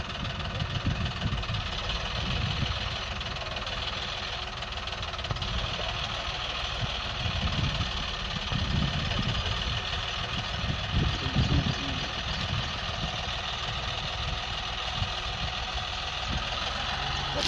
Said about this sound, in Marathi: ओल काढण्यासाठी खड्डे करताय ट्रॅक्टरनी